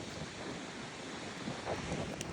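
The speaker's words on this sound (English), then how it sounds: "I'm sitting here surfing, enjoying the beautiful waves." Ocean surf at Peniche, Portugal, a soft, steady wash of breaking waves heard at moderate distance with some wind noise on the microphone, no one speaking.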